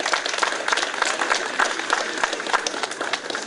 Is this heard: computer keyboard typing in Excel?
no